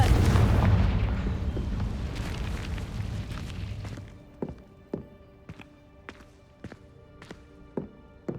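A Confringo fire blast spell cast in Hogwarts Legacy: a loud roaring rumble with booming bursts fades out, followed by a string of sharp, separate impact cracks at uneven intervals.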